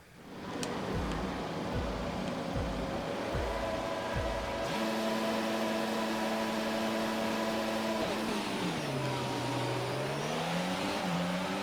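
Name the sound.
race cars' engines at the race start in the video game F1 22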